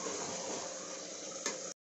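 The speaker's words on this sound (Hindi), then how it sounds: "हमारा जो चिकन है वो अभी भून रहा है" Chicken fries in a pan with garlic ginger paste, giving a steady broad sizzling hiss with a short scrape near the end before it cuts off.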